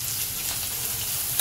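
Chopped green chillies and curry leaves sizzling in hot oil for kanda poha, a steady, loud crackling hiss without pause and a brief sharper spatter right at the end.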